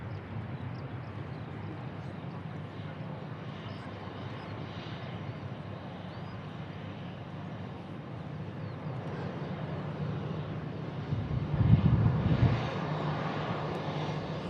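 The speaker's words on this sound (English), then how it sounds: "A320, just take it off of runway 23 left at Manchester." An EasyJet Airbus A320 takes off from runway 23 left at Manchester, heard as a steady, fairly distant jet roar with wind noise that swells briefly louder near the end.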